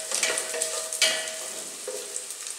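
Dried salted beef sizzles and fries in a pan in a makeshift kitchen, with steady crackling and occasional scraping stirs, close and moderately quiet, no voices.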